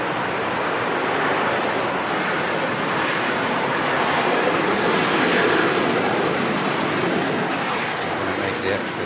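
Airplane landing at Manchester Airport, a steady, loud broadband roar of jet engines and rushing air sustained throughout, with no clear breaks.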